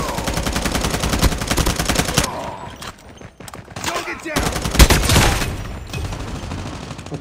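Rapid video game gunfire in bursts, headshots against bots in a shooter while unlocking gold camo for the M4 rifle, loud and dense, with a quiet gap midway before more shots resume.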